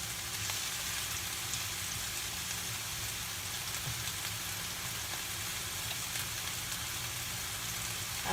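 Turkey meatballs fry in a pan with a steady, even sizzle that holds at moderate level throughout, with no voices.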